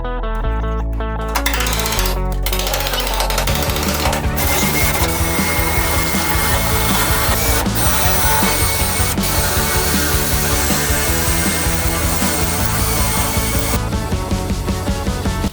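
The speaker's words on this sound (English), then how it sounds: "Now that all of those spot welds are drilled" Loud, continuous power-drill grinding and whining, steady and harsh with a few sharp metallic clicks, close by, no talking, as spot welds are drilled out of a fire-damaged BMW G82 M4 Competition car body.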